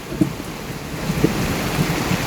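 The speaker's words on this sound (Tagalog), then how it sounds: "Doon, kumukulog, kumikidlat." Heavy rain pouring steadily in a garden with low rumbles of thunder, a dense, constant wash of rainfall with soft distant booms and no voices.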